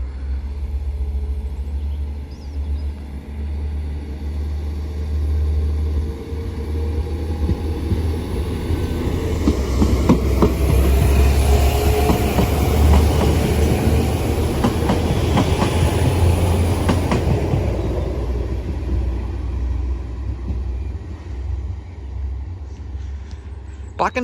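A train pulls away from Greenisland station, a steady low rumble that swells mid-way with rhythmic clickety-clack of wheels over rail joints, then slowly fades as it recedes into the distance.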